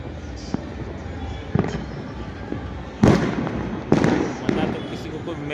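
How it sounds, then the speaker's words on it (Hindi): Firecrackers go off outdoors in a series of sharp bangs and pops at irregular intervals, the louder blasts near the middle standing out over a murmuring background. "क्या है ये पटाखे चलाने से"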